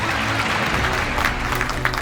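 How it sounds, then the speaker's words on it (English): A crowd applauds pre-primary graduates at a graduation day, a dense, steady wash of clapping filling the room from start to finish with a faint murmur of voices underneath. "Give them a big round of applause."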